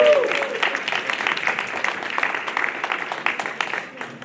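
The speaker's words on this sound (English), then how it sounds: "If we can give those folks a round of applause that participated." A round of applause from the audience at a participatory-budgeting celebration, many hands clapping steadily and loudly for about four seconds, fading slightly at the end with a voice faintly underneath.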